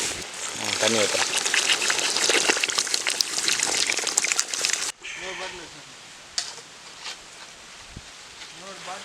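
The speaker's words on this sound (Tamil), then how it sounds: "தண்ணி ஊற்றுறோம்." Water gushes steadily from a vessel onto 1.5 kilograms of sugar to make gulab jamun syrup in a village kitchen, loud for about five seconds, then stops abruptly, leaving quieter clinks and a speaking voice.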